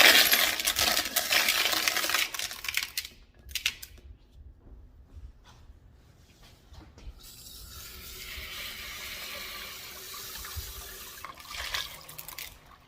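Tumbled rocks from a Lot-o tumbler being rinsed clean in water after a borax wash, with loud rattling and splashing of stones under running water at first, then a quieter stretch and renewed clattering toward the end.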